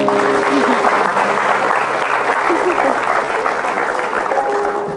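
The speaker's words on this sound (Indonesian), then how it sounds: "Kita tepuk tangan dulu buat mereka." A television studio audience on a talk show breaks into steady applause, a dense wash of clapping holding level for several seconds, with a faint tone and some voices underneath.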